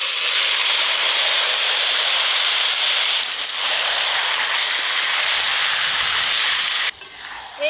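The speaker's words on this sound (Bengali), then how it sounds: "মশলা মাখানো চিকেন দেব।" Spice-marinated chicken dropped into hot oil in a wok tempered with bay leaves and whole garam masala, giving a loud, steady, close hiss of sizzling that runs nearly unbroken before falling away sharply near the end.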